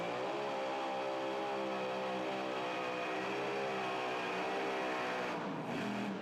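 A mini rod pulling vehicle's engine screams at sustained high RPM during a pulling competition in Goshen, Indiana, loud and steady throughout, with the pitch wavering slightly and dropping near the end.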